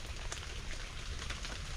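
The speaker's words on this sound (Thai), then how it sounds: "ฝนสีตกอีกแล้ว" Rain falling in a forest while out mushroom hunting, a steady hiss of drops on leaves with a few sharper patters, fairly quiet and without voices.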